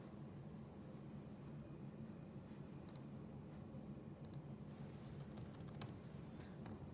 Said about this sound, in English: let me also type that out.